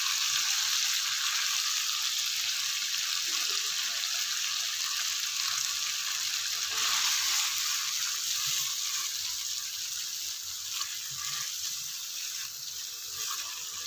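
Minced meat keema fries in a pan for a karela dish as a cup of yogurt is added, giving a steady, loud, bright sizzle with no pause for the whole stretch.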